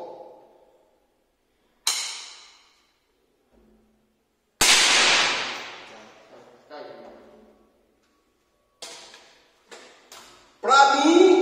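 A .22 rifle is test-fired several times outdoors, each shot a sharp isolated crack with a short decay, spaced by silence, with brief mechanical clicks between and a louder burst at the end.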